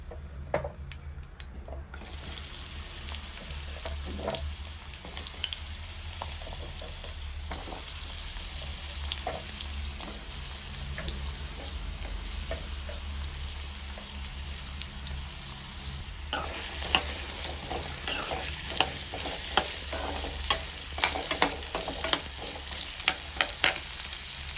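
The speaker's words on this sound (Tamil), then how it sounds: "எண்ணெய் சூடானதுக்கப்புறம் காயையும் பூண்டையும் சேர்த்து நல்லா வதக்கிக்கலாம்." Pumpkin and garlic sautéing in hot oil in a pan, a steady loud sizzle and frying hiss with occasional stirring scrapes and clinks of a utensil against the pan, no voices.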